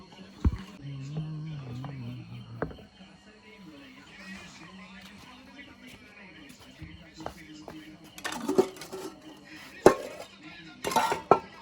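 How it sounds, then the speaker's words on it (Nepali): Dishes are washed by hand in a village home: scattered clinks and clatters of pots, pans and cutlery come in sparse bursts, louder toward the end, with hushed voices talking over them. "ल म भाँडा माझेको देखाउँछु है हजुरहरू।"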